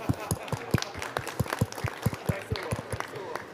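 Clapping at a pavilion event during the COP 29 climate conference, a modest audience beating out fairly rhythmic, distinct hand claps at close range, with no one talking over them.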